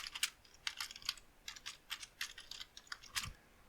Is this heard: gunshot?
no